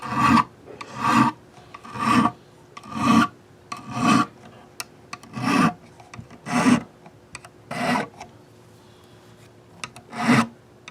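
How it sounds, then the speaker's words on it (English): A metal file rasps along the frets of a Yamaha guitar in about ten steady, evenly spaced strokes, close and loud, with no talking. "just one or two swipes along each fret is enough to make a real nice big difference on it"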